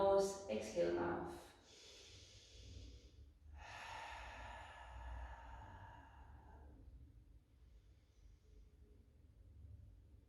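Slow, deep breaths during a yoga session, each drawn in through the nose and let out through the mouth as a soft, close airy rush, with a brief sharp sniff at the start and a longer exhale following.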